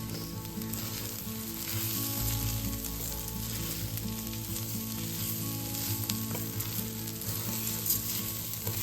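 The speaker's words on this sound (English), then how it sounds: "I'm going to go ahead and add my rice. Cook that for an additional minute." Rice toasting in a pan for butternut squash risotto gives an even, close sizzle with soft stirring scrapes and a steady low hum beneath, with no voices.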